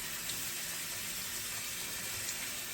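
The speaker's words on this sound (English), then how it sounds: "I'm going to turn my water on to just cool." Cool water runs steadily from a sink faucet, a constant close hiss and splash without pause while rinsing ice-dyed fabric.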